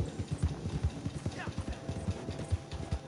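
Horse running fast, rapid rhythmic hoof clip-clops at a steady gallop, fairly close, under someone talking.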